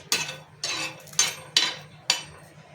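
Peanuts tumbling into a pan of roasting coconut, with five sharp rattling bursts in a loose rhythm, each fading quickly, close and fairly clear over a low hum.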